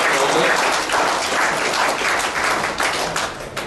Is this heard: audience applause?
yes